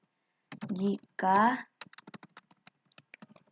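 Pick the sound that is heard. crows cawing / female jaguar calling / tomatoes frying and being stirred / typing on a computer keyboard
typing on a computer keyboard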